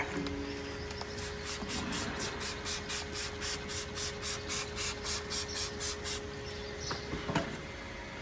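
A spray bottle of mouthwash is pumped rapidly about a dozen times onto a horse's hoof, quick even spritzes in a steady rhythm, close and fairly quiet.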